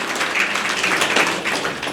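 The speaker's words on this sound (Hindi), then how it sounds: "ताली बजाओ उस बच्ची के लिए" An audience claps for a little girl at a spiritual talk, a steady, dense patter of many hands spread evenly across about two seconds, fairly close and unbroken.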